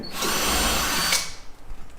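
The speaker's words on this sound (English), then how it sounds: "pre-drill, and then that guides the nail in really nicely" A power drill pre-drills a hole into wood flooring at an angle, whirring loudly and steadily for about a second before spinning down, followed by quiet light handling noises.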